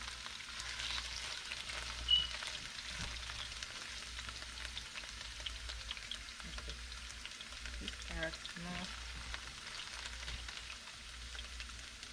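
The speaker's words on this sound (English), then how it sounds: "I'm gonna fry my carrot first" A carrot fries in a pan with a soft, steady sizzle that runs unbroken throughout, with a few faint clinks of utensils near the end.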